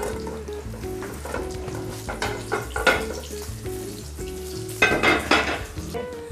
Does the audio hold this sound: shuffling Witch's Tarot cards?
no